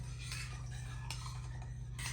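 A spoon scrapes and clinks rhythmically against a pot while marinade for mackerel is stirred on the stove toward a boil, close and fairly quiet over a steady low hum, with repeated strokes about once a second.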